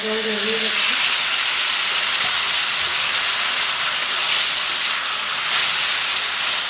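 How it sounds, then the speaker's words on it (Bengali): Raw tomato frying in a hot pan for a Bengali home-style dish, a loud, continuous hissing sizzle close by, with a faint voice briefly at the start. "টমেটো কাঁচা ভাজা দিয়ে দেব"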